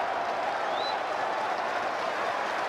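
Basketball arena crowd at a FIBA World Cup 2023 qualifier between Cuba and Mexico applauding and cheering to back their own player, a dense, steady wash of clapping and crowd noise throughout.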